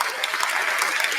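A short, steady burst of clapping from a small group, continuous and fairly close throughout.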